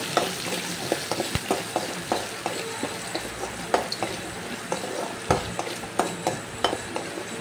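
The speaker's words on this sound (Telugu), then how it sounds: "ఆనియన్స్ కొంచెం మెత్తగా ఫ్రై అయ్యేలాగా కొంచెం మనం కదుపుకోవాలండి వాటిని." Finely chopped onions frying in oil and being stirred, giving a continuous crackling sizzle. Frequent sharp taps and scrapes of a spoon against the pan sound close by.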